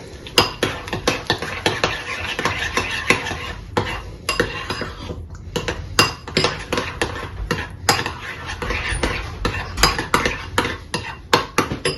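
A layered salad of ham, cucumber and cheese being mixed with sauce in a bowl, with a busy, irregular run of spoon clinks and scrapes against the dish, close and continuous.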